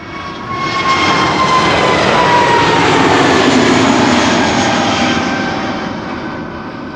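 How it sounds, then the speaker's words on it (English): An Airbus A320neo jet airliner departing Amsterdam Schiphol Airport roars past, swelling from quiet to a loud, sustained engine rush with a faint whine that slowly shifts in pitch, then fading gradually. "That's an A320 Neo to Stockholm."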